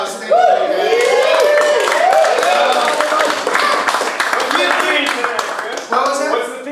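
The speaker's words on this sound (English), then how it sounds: "So, big round of applause." Theater audience gives the band a round of applause, dense clapping heard up close, with someone speaking over it during the first seconds.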